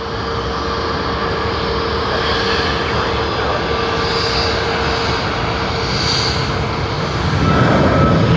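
A Harry Potter livery airliner at Sydney Airport, its steady engine roar sustained and fairly loud throughout, swelling slightly near the end with no talk over it.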